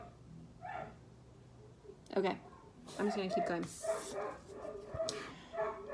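Small dog barks a few times in short bursts at mid distance, interleaved with someone talking, in a home where one dog objects while other dogs are being played with.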